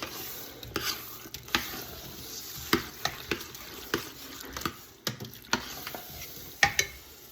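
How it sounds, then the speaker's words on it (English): Diced tomatoes stirred into sausage, chicken and shrimp gumbo in a pot, with irregular scraping and clacking spoon strokes over a soft, steady sizzle, close and moderately quiet. "at this point, I add in my can of diced tomatoes"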